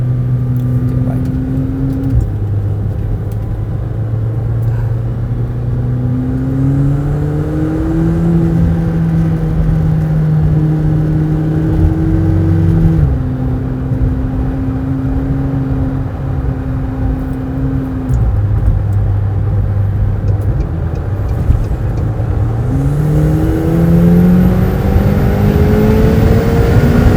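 A McLaren 720S sports car accelerates hard in second gear, its engine note rising loud and close in long climbing sweeps with shifts between them.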